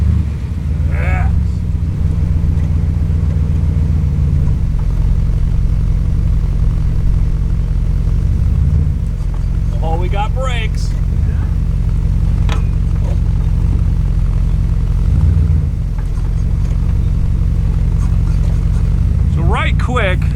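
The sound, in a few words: 1971 Chrysler New Yorker car driving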